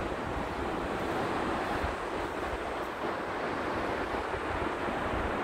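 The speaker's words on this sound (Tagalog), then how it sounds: "nandito tayo sa dagat." Sea waves wash onto an empty shore at low tide in cool weather, a continuous broadband surf roar mixed with wind buffeting the microphone, steady and fairly faint, with no voices.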